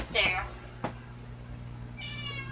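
An indoor cat gives two meows, a clear one at the start and a softer drawn-out one near the end, with a short knock between them over quiet room hum.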